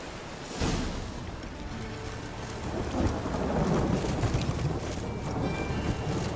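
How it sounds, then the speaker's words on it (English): A thunderstorm in The Witcher 3 video game, with a heavy, steady downpour of rain and a low rumble of thunder that swells partway through, loud and continuous with no talking. "A storm, damn it."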